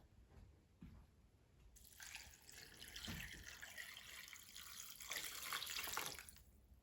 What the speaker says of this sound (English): And now add enough water to cover the ramen.